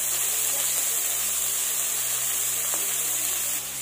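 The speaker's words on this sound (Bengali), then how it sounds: "তেলটা ভালোভাবে গরম হয়ে গেছে, এবার এই যে গুগলিগুলো ছাড়িয়ে রেখেছিলাম সেগুলো দিয়ে দিচ্ছি।" Shelled river snails hit hot mustard oil in a pan, giving a loud, steady, hissing sizzle that fills the whole stretch, close and continuous without speech.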